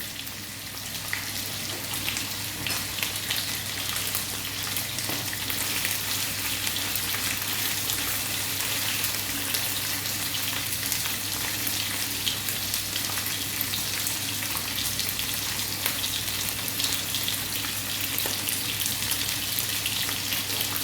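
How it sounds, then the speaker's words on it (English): Chicken for biryani sizzles and spits steadily while browning in a hot pan, a constant crackling hiss with occasional louder pops, close up and without talking. "So the chicken is frying up there."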